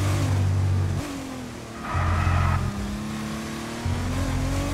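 A Lamborghini race car in F1 22 is hauled into a corner, its loud, close engine dropping in pitch on braking and then climbing again as it accelerates out, with a faint tire scrub in the middle.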